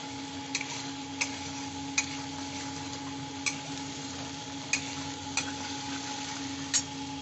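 Flat beans frying in oil in a pan for a Bengali jhalda, a constant close sizzle and hiss punctuated by a handful of light clicks and taps of a spatula against the pan, with no talking.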